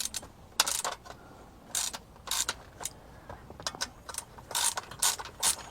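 Ratchet tightening bolts on the metal frame of a Haudio C07D double-DIN car stereo, bursts of quick clicking pawl strokes, close and fairly faint, with no talk.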